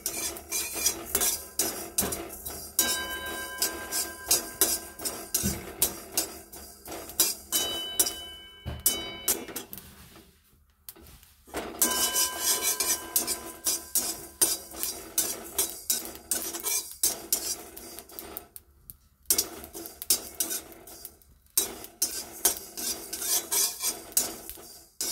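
A spatula scrapes and stirs spice paste frying on low heat in a pan for a spinach dish, giving a steady run of rhythmic metallic scraping over a soft sizzle, with brief pauses.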